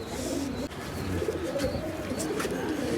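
A female pigeon kept for tournament flying coos in low, rolling throaty phrases that repeat through the moment, close by, over a faint room background.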